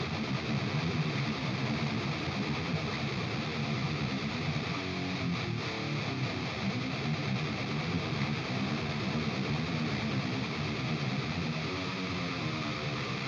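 Heavily distorted electric guitar through a Nembrini Audio Hardball amp, bright and dark tones blended together, forming a thick, loud, continuous wall of crunchy riffing with full low end and no pauses.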